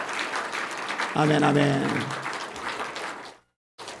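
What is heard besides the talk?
church congregation clapping in thanks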